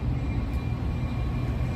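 An outbound Metra commuter train nears Chicago's Union Station along Roosevelt Road, a steady low rumble holding at moderate distance without any break, alone without speech.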